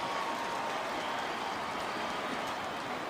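Stadium crowd of about 60,000 at Kroger Field during a college football game, a steady dense roar of cheering that stays loud and continuous throughout with no pauses.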